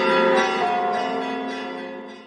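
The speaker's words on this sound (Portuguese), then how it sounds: "Fora os sinos de igreja" Church bells ring out from a tall tower, with several rich, sustained tones overlapping into a loud, resonant chime that slowly decays.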